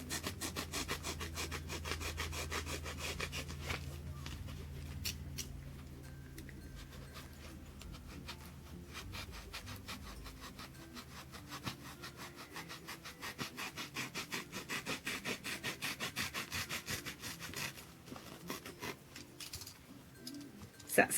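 A blade slowly cuts through a handmade foam squishy brownie, a long stretch of quiet rhythmic rubbing and sawing strokes close up, faint and uneven, ending with a small knock.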